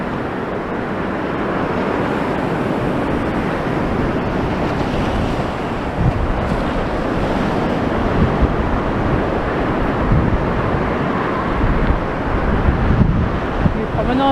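Waves surge and wash against the promenade at high tide in Blackpool, with strong wind buffeting the microphone throughout in a continuous, roaring wash of surf.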